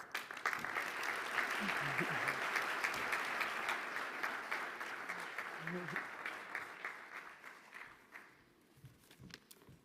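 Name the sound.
applause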